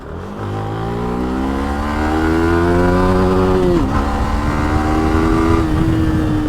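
A modified 155 cc Yamaha MT-15 motorcycle accelerates hard in second gear, its loud, close engine note rising steadily in pitch, with a brief dip as the throttle eases before climbing again.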